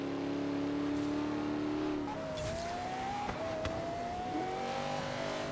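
A car engine in Forza Horizon 3 hums steadily, then shifts pitch midway as it revs and climbs, with brief tire noise and clicks, close and unaccompanied by speech.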